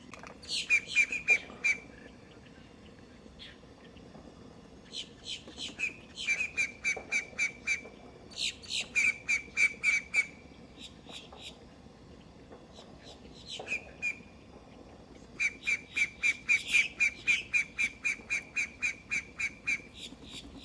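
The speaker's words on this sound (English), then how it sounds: "There are a few birds looking over." Birds in a tree in Florida call repeatedly in loud, rapid bursts of chattering whistles, several clusters of rhythmic notes separated by short pauses, with quieter background noise between.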